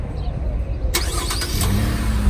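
A pickup truck's engine idles with a steady low rumble nearby, and a sharp clunk or door noise cuts in partway through, followed by a soft hum.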